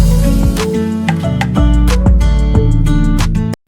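Electric guitar loop from a Session Pop sample pack, layered in a dense, loud mix with sustained chords and bright plucked accents over a steady low pulse, cutting off abruptly after a few seconds, with no voices.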